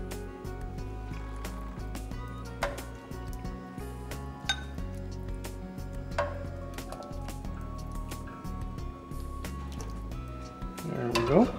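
Korean bone broth soup (seolleongtang) is ladled into serving bowls, with repeated clinks and knocks of the ladle against pot and bowls, soft pouring and splashing, and a brief scrape near the end, close and clear.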